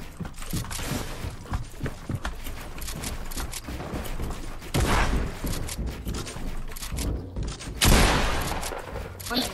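Dense video game gunfire with rapid bursts and heavy booms from RPG shots, loud and continuous, with two big blasts standing out, and a voice talking faintly underneath.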